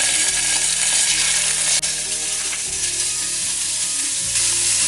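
Ginger garlic paste fries with spices in hot oil for Arabian chicken kabsa, giving a loud, dense, steady sizzle that runs the whole time with faint stirring scrapes and no talking.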